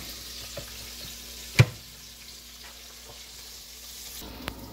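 Southern-style catfish nuggets fry in hot oil with a steady, soft, close sizzling hiss, broken once by a single sharp clink. No one speaks.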